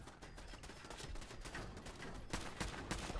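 Automated turrets fire bullets in Fallout 4, a steady crackling barrage of rapid shots close by that swells louder and denser toward the end.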